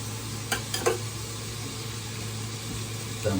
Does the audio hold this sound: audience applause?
no